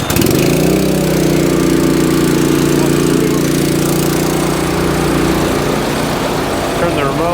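A small pump engine, just choked, runs steadily and loudly with a constant low drone and rattly mechanical texture, close by and unbroken. Brief faint voices come through near the end.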